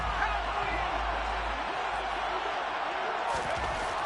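A home crowd in a football video game keeps up a constant, dense wall of broadband roar that stays loud and unbroken for the whole stretch, with no clear peaks.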